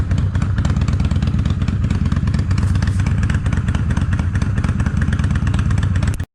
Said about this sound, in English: I went ahead and let the motorcycle warm up.